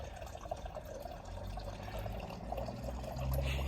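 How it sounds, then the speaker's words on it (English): A garden water feature running outdoors, with a soft, continuous trickle and splash of falling water, faint and steady throughout and rising slightly near the end. "Yes, the water feature is on."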